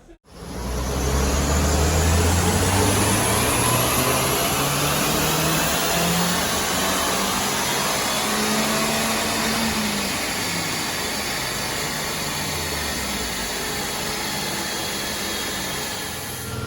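A Mitsubishi Colt Ralliart runs on a rolling road dyno. The engine roars loud and steady, its pitch climbing early through a sustained high-load run with a strong broadband rush that holds for the whole stretch.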